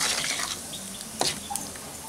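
Whole cumin seeds, cinnamon stick, cardamom and cloves tempering in hot oil in a pan, a close, steady crackling sizzle with scattered small pops across about two seconds, no voices.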